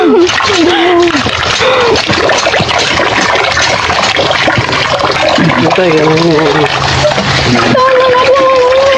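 Water splashing and running during a hair wash with shampoo, a continuous loud wet spatter close by, with voices talking over it throughout.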